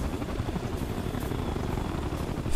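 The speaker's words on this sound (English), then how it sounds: "Oh, they got a chopper." Helicopter in the video game Ghost Recon Future Soldier, a continuous, fairly faint rotor chop and turbine rumble with no talk over it.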